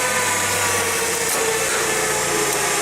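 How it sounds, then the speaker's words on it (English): A forklift engine runs steadily at high revs with the parking brake set and the wheels not turning, a constant loud drone with a slight shift in pitch partway through and no speech. "Engine revs, wheels doesn't turn."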